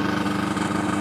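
A DG-808 motor glider's two-stroke engine runs with a steady, dense buzzing drone, continuous and fairly loud for the whole brief moment.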